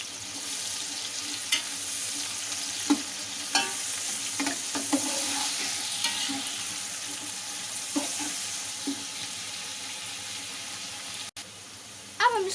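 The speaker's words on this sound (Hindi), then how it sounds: "1 कप ऑयल, अब हम इसमें अपनी प्याज डाल देंगे।" Onions fry in about a cup of oil for a mutton tikka biryani, giving a soft, steady sizzle with scattered clicks and utensil knocks, fairly quiet and close, with a brief louder clatter at the end.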